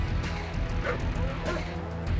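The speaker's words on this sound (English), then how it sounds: "That is a lot of dogs." Several dogs bark and yip in a real-time strategy game, Command & Conquer: Blue Alert, short overlapping barks over a constant low game rumble and music, with a voice talking in places.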